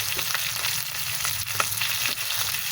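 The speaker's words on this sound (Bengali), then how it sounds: "মাছগুলো ভাজতে দিয়ে দিলাম" Bata fish, rubbed with salt, turmeric and chili powder, frying in a pan, giving a steady, dense sizzle with small crackles throughout, close and fairly loud with no voices.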